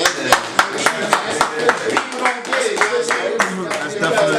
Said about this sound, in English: That's definitely a round of applause